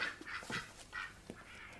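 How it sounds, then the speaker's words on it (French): A flock of geese in an indoor corridor honks and cackles in short overlapping calls, moderately close but fairly quiet, with no one speaking. "Que fait ce fichu troupeau d'oies dans le couloir, Maureen?"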